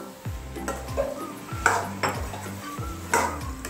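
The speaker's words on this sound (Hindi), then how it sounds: "अब इन आलूओं को आप मसाले के साथ अच्छे से 1-2 मिनट के लिए भून लें" Potatoes fried and stirred with spices in a pan for halwai-style aloo sabzi: a spoon clinks and scrapes against the metal pan several times in an uneven rhythm, close and fairly quiet, with no talk.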